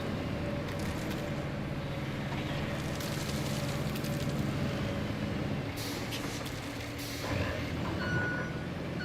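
Truck reversing alarm in the RoadCraft driving game, a steady repeating beep over a continuous heavy engine rumble, loud and close throughout with a brief air-brake hiss near the end.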